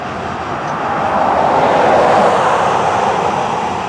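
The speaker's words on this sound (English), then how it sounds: "This train will work its way up the line." A loud, steady broadband rumble of a passing Florida East Coast Railway freight train, swelling slightly in the middle and holding strong throughout with no voices.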